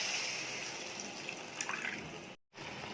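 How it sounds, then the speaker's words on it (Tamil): Tamarind water is poured into a simmering pappadam curry, making a steady, soft splashing stream for about two seconds before it abruptly stops, then quiet bubbling resumes. "இதில் கொஞ்சம் புளி தண்ணி ஊற்றிக்கலாம்."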